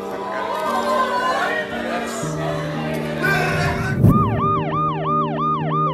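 Ambulance siren wailing in a regular rising-falling pattern, entering after a loud burst amid street crowd chatter at a Paris protest, prominent and fairly near over the murmur of many voices.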